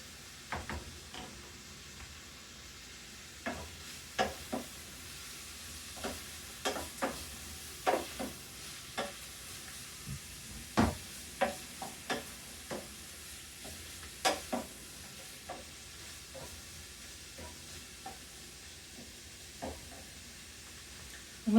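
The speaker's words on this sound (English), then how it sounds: "Giving it a stir so it doesn't stick to the bottom." Vegetables sizzling in a hot pan while being stirred, with steady frying hiss beneath regular scraping and clacking of the spoon against the pan, close and quiet, no talking.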